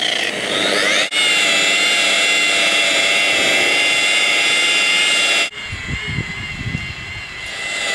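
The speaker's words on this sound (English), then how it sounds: "we're going to start very slowly with the machine, not pressing too hard, and we're just going to go over the whole area that we've put the compound on" A power polishing machine on its lowest setting buffs compound into boat fiberglass with a loud, steady high whine. It dips once briefly, then cuts off, leaving quieter handling noise.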